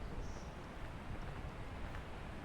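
Steady wind blowing through the video game PEAK, a continuous broadband rush that stays even and fairly loud for the whole stretch, with no voices over it.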